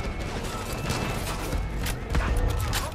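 Gunfire in the Far Cry 5 video game, a short stretch of sharp rapid shots and impacts layered with game ambience and brief speech.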